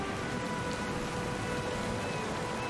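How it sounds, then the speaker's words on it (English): Steady rain drumming on a ship's deck at sea in a fantasy role-playing video game, a dense, even wash of droplets, close and continuous, with no voices. "The rain drums against the deck."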